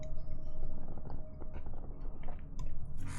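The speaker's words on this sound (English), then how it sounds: "You can hear me chewing gum?" Close, wet chewing of gum with soft squishy clicks and smacks in an irregular rhythm, fairly loud near the mic, with no talking.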